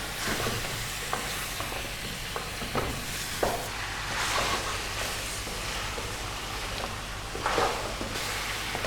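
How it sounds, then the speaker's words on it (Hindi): Mutton pieces sizzle as they fry slowly over low flame in a pot for Kabuli pulao, with steady crackling and scraping spoon strokes stirring the meat, close and continuous, no talking. "गोश्त को हमने हल्की आंच पर 15 मिनट तक भून लिया है।"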